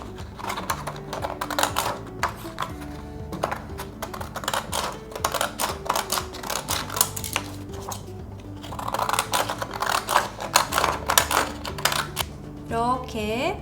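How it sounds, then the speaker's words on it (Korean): Penguin-shaped craft scissors cut colored paper, a rapid series of close crisp snips and rustling paper clicks in uneven bursts with short pauses, no talking. "펭귄 가위로 모양을 내서 잘라볼게요"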